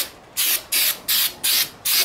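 Five short, sharp hisses from an aerosol spray can aimed at a car tire, evenly spaced and loud up close, with brief silences between them.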